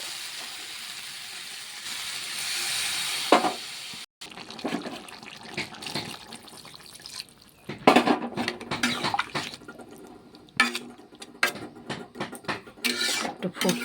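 Water poured into a hot pot of jackfruit curry sends up loud hissing and bubbling in uneven bursts, with clattering and splashing between them.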